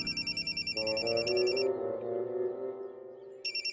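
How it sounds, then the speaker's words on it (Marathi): A telephone rings in rapid electronic trills at the start, stops while a low musical tone swells, then rings again briefly at the end, fairly quiet and without speech. "अरे बापरे माया मॅडमचा फोन होता."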